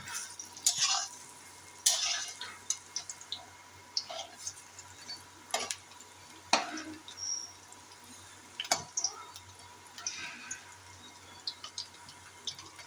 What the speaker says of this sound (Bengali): ডালের বড়াগুলোকে ভাজতে হবে